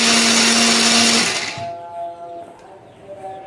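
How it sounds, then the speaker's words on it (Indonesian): An electric blender whirs loudly for over a second, grinding candlenut spice paste with a little water, then cuts off, leaving faint kitchen sounds and clatter. "Bumbu ini akan kita haluskan menggunakan blender ya."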